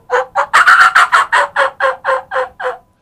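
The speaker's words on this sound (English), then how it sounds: "but this is the fly down cackle from a hen." A wild turkey hen gives her fly-down cackle, a loud close series of about a dozen rapid, excited clucks that quicken in the middle, then slow and soften toward the end.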